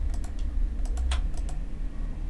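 Computer keys pressed in quick, uneven bursts of sharp clicks over a steady low hum, close by, with no speech.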